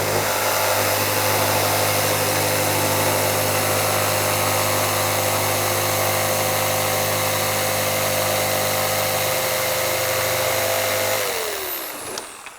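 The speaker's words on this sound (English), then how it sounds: "there's what's called a Collins coping foot. And it's on my Bosch saw here" A Bosch power saw fitted with a Collins coping foot cuts wooden trim, a loud, steady motor whine that holds for about eleven seconds before the blade winds down and stops, with no talking.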